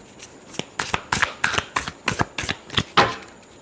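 Tarot cards are shuffled by hand in a close, crisp series of about a dozen riffling bursts in quick, even rhythm, with no talk over them.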